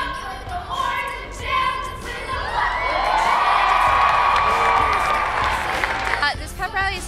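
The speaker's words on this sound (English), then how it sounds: "The whole gym is cheering them on" A gym crowd cheers at a Special Olympics pep rally, loud sustained yelling, whooping and children shouting that swells in the middle and carries on to the end, with some talk mixed in.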